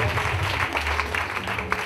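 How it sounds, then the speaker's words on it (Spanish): Applause from a dance class during an Afro dance workshop, steady and close, with broadband clapping filling the clip and a low music or voice hum underneath. "Un aplauso de vos."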